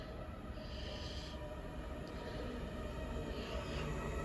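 An Avanti West Coast train, running from Manchester Piccadilly to London Euston, rolls into platform 4 at Nuneaton station with a steady, moderately loud rumble of wheels and motors. Faint higher squeals rise over it.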